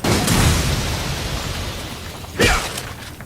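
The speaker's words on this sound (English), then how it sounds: "now let's try nitrogen rounds" A nitrogen round is fired in Resident Evil 5: a loud blast-like burst over a heavy rumbling game backdrop, followed a couple of seconds later by a second sharp crack.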